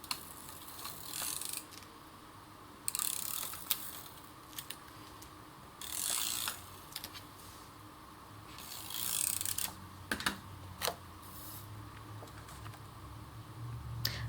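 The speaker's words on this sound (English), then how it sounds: "I'm just going to go ahead and use the running tape." A running tape adhesive dispenser rolls across a handmade Christmas card in short ratcheting clicks and brief scraping bursts, close and quiet, separated by pauses.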